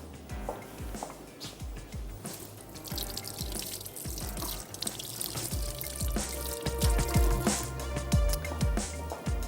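Mixed pakoras fry in Meezan cooking oil, giving a steady, close crackling sizzle with scattered pops and spits that grows slightly louder toward the end.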